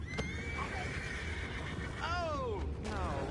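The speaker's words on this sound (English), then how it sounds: "You mind the horses?" A horse whinnies clearly in the video game Red Dead Redemption 2, a rising and falling neigh, with background ambience and faint speech around it.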